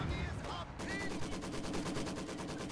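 Rapid cannon and gunfire from a Company of Heroes 2 battle involving a mortar half-track, a sharp blast followed by dense, rhythmic bursts of shots that keep going without talk.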